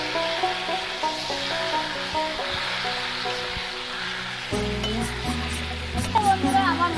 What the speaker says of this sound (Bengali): কড়াইতে দিয়ে আমি ভালো করে কষিয়ে নেব